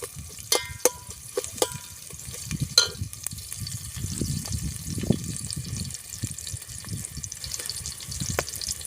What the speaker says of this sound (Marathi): तेल गरम झालं आहे कांदे टाकून घ्यायचे आहे टाकले आहे आता तेलात चांगले कांदे होऊ द्यायचे